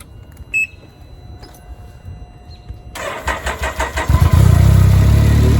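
A car engine cranks with a rapid series of rhythmic pulses, then catches and settles into a loud, steady idle right up close.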